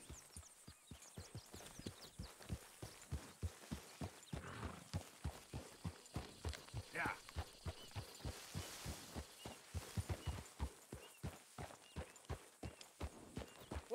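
Horse hooves clip-clop in a steady walking rhythm while riding in the game Red Dead Redemption 2, close and continuous with a faint whinny partway through.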